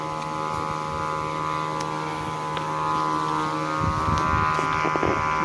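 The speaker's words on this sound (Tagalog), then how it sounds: "Sobrang lakas ng hangin, no?" Strong wind roars steadily against the microphone during kite flying, layered with a constant droning hum and occasional low buffeting thumps.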